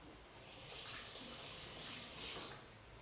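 Tap water runs steadily over flat leaf parsley being washed in a kitchen sink, a broad hissing gush that swells slightly midway and stays close and fairly loud throughout, with no talking.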